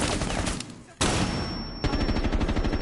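Loud automatic gunfire in the Rainbow Six Siege video game, rapid bursts of close shots that break off for a moment and then resume at full intensity.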